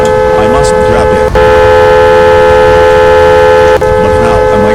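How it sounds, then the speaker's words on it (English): A tornado siren sounds during a tornado watch, a loud, steady outdoor wail holding a sustained multi-tone pitch with only brief dips, with speech over it. "That must be the siren."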